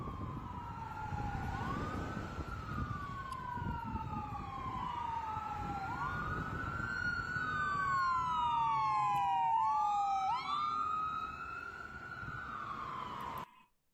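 Several wailing emergency sirens rising and falling together, overlapping at different pitches, with a steady traffic rumble beneath.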